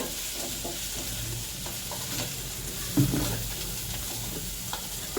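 Onions sautéing in a pan with curry leaves as chili powder goes in, a steady soft sizzle with scattered scraping stir strokes and one brief louder clatter midway, no voices.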